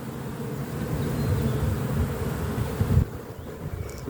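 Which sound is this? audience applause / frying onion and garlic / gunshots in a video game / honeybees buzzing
honeybees buzzing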